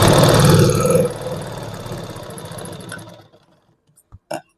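A sewing machine runs a reverse stitch along a blouse lining, a steady close mechanical whir for about three seconds before it stops, followed by a couple of brief clicks.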